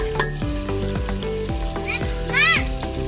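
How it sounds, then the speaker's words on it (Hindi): Meat hits a hot pan while cooking Sindhi biryani and sizzles loudly and steadily, broken by a few sharp clinks and scrapes of stirring. "अब हम इसमें गोश्त डालेंगे"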